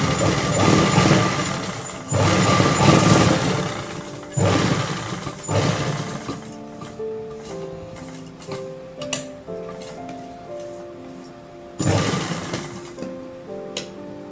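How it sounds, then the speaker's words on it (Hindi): A sewing machine runs in bursts while stitching the side seam of a designer kurti, loud and close, each run of rapid stitching separated by short pauses and lighter mechanical ticks. "अब बगल से एक सिलाई और चला लेंगे, जैसे कि हम 2 सिलाई चलाते हैं।"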